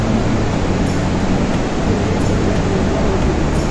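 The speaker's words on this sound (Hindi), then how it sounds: "झरने की खूबसूरती आप देख रहे हैं" Keoti Waterfall in Rewa, Madhya Pradesh roars as a steady, dense wash of broadband noise, constant and loud throughout with no breaks.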